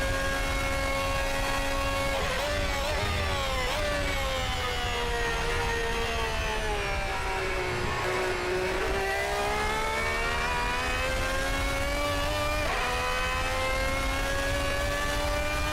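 Toyota TS020 race car engine in a sim racing game mod at Le Mans, a loud steady high-pitched scream with rising and falling pitch through gear changes and shifts, running continuously alone.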